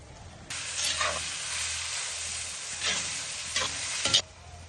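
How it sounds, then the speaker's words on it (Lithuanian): About 800 grams of minced meat stirred into browned onions in a kazan: broadband sizzling starts abruptly and holds steady, with a few louder scraping stirs near the end. "Svogūnom gražiai apskrudus dedame 800 gramų faršo."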